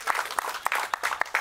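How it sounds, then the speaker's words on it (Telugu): Scattered applause at a film teaser launch event, a sparse patter of individual claps, fairly faint and irregular, lasting only a moment. "ఒకసారి అందరు గట్టిగా big round of applause all of you"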